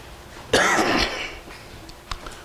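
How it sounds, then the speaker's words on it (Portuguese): One harsh, close cough bursts out, followed by a faint throat-clearing sound a moment later. "Desculpe, irmão, estou com tosse."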